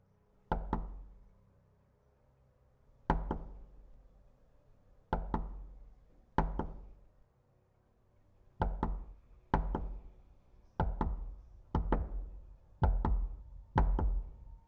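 Knocking on a door, heard as about ten separate knocks or short bursts spread irregularly across the clip, each sharp and resonant with a brief decay, fairly loud and close with quiet gaps between.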